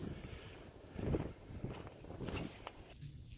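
Gusty wind buffets the microphone during a snow blizzard outdoors, an uneven rumbling rush that swells and fades in irregular surges, with a few soft scuffing noises mixed in.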